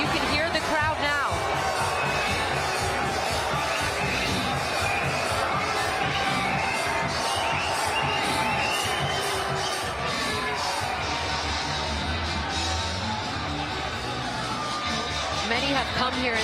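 Boxing arena crowd at Madison Square Garden cheers and roars continuously for Josh Taylor's fight, a dense, loud wash of voices and whoops with a commentator talking over it.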